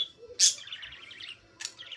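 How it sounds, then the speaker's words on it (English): Pet birds chirp up close indoors in two bright bursts, a sharp shrill call followed by quick warbling tweets, with quiet gaps between. "My birds are going to be loud now."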